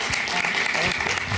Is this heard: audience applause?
yes